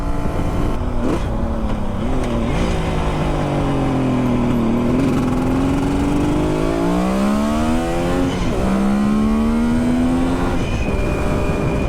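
Vintage Kawasaki motorcycle engine, such as a 1976 KZ900 or 1974 H2 750, revving up and down through rising and falling pitch sweeps while being ridden, loud and continuous with no talk.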